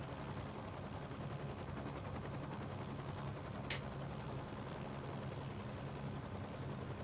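A helicopter engine idles steadily in a flight simulator game, a faint, constant rotor-and-turbine hum with one brief high click near the middle.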